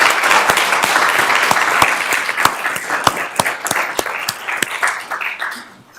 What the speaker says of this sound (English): I'd like to give him a round of applause as well.